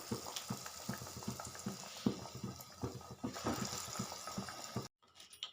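Potato and chili fritters slide into hot frying oil in a pan, raising a steady close sizzle and bubbling with small crackles that runs for several seconds before cutting off abruptly, with no voices.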